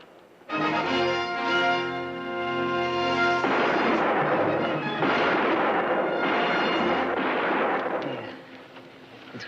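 Herd guards fire gunshots outdoors, heard as a long loud rolling volley of overlapping booming reports that runs for several seconds before fading.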